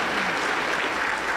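Church congregation at a healing and deliverance service applauding, a thick, continuous wash of clapping at steady loudness with no pauses.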